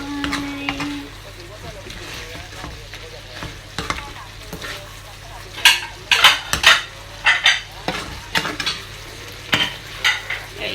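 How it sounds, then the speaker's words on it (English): Belly pork stir-fries in a pan with a steady sizzle and bursts of loud metallic spatula scraping and clanks, strongest in the second half, and some talk mixed in. "Belly pork stir fry."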